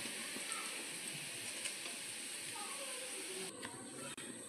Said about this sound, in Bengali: আলু তুলে নিয়েছি, এবার সোয়াবিনগুলো দিয়ে দিলাম